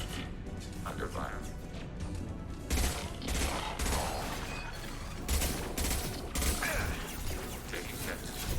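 Gunfire and combat noise fill a Mass Effect 2 battle against geth, a dense, steady clatter of shots and mechanical impacts with louder bursts throughout, under character voices calling out.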